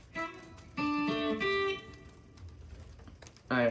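Electric guitar picking out an opening piece of a song, a few sustained plucked notes on the high E and neighbouring strings, close and fairly quiet, then a brief pause before another strum.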